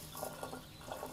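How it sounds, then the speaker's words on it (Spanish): Solarized water is poured into a container, a faint, brief trickling splash with a few soft pulsing gurgles against quiet background noise. "voy a proceder a echarle agua solarizada"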